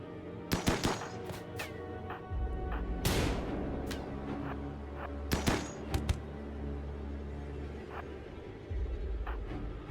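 Colonists fire guns during a siege in the RimWorld game, with sharp cracks and quick bursts scattered over a low background rumble, including a few tight clusters of rapid shots.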